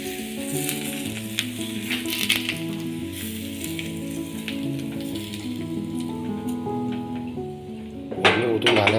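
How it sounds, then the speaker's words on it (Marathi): Hot tempering of fried chillies is poured slowly over kadhi with the gas turned off. It gives a steady sizzle under sustained tonal background, with a brief utensil clink near the end. "आता ही फोडणी याच्यावरती हळूहळू ओतून टाकायची"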